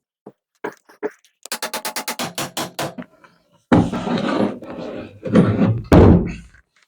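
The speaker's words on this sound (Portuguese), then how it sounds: "vou encaixar as buchas aqui e depois bater com o martelo" A hammer taps dowels into the wooden parts of a Katakana-model chair: a few scattered knocks, then a quick run of about ten sharp, even taps. A person talks afterward.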